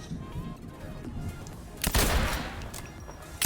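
Gunfire from a weapon in Fortnite gameplay, a few faint, scattered shots under background game noise, with one louder burst of fire near the middle and another at the end.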